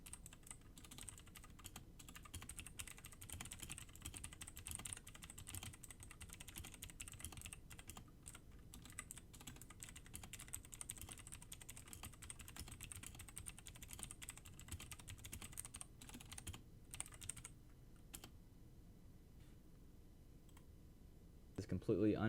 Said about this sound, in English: Let's go do a sound test real quick with these blue switches.